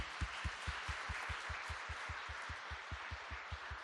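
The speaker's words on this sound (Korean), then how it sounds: "우리 박수를 한번 격려합시다" A church congregation at an evening service applauds a student group: a faint, distant wash of clapping with a steady, regular beat of soft thumps running through it.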